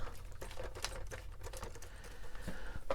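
Screws come out of a Pac-Man arcade machine with quick, faint mechanical clicks and scrapes in an uneven rhythm, close to the mic and quiet.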